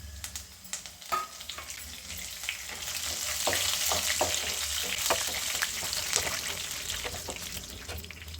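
Chana dal and curry leaves fry in hot oil with a crackling, bubbling sizzle and scattered sharp pops and spatters throughout, fairly quiet and close, with no talking.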